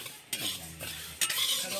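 A utensil stirs and scrapes mung dal as it dry-fries in a hot pan. Two distinct scraping strokes come with a soft sizzle beneath them, close and fairly loud, and there are no voices.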